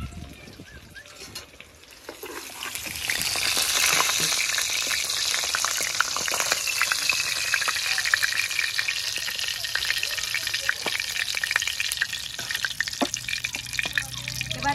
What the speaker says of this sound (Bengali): মাছ লাল লাল করে ভেজে নিয়েছি